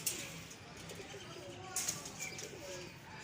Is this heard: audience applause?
no